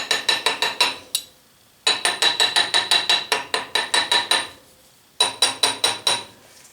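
A hammer taps a pattern set in a foundry sand mold to loosen it for withdrawal. Three bursts of quick, ringing metallic taps are separated by short pauses.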